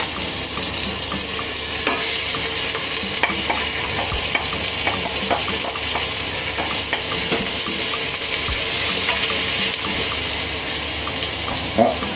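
Chopped onions fry in hot oil for an Indonesian rendang, sizzling loudly and steadily while a utensil stirs and scrapes them in the pan, with no talking.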